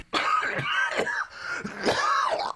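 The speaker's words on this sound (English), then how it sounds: "That cough is getting bad." A harsh, raspy cough repeated several times in quick succession, loud and close, with throaty rasping between bursts.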